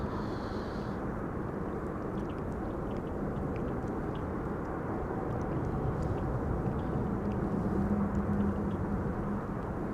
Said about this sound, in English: In the background we have Cathay Pacific Cargo arriving from Dubai World Center, that's a 7478.